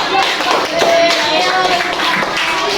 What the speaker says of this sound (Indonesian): Oke, beri tepuk tangan dulu semua.